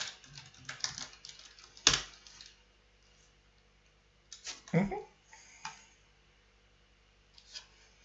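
Quick bursts of keystrokes on a computer keyboard enter a database update command, with short clusters of close clicks separated by quiet pauses.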